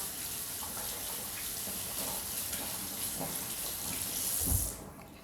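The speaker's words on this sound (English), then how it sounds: "I'm gonna rinse off my hands because I got oil all over them now." Water running steadily from a kitchen tap while oily hands are rinsed, a close continuous splashing hiss that swells briefly before cutting off near the end.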